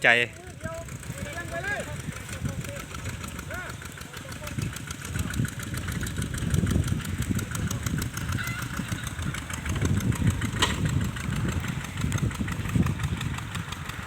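A walking tractor fitted with a ride-on seat attachment runs in second gear, its single-cylinder engine chugging and thumping steadily up close, with someone talking over it.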